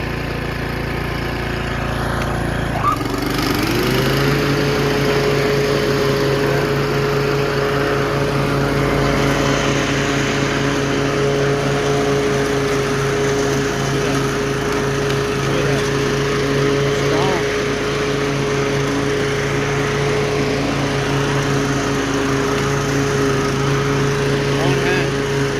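A DR 30-inch Widecut mower engine catches on a single pull and settles into a steady, loud, continuous run close by, its pitch holding even after the start.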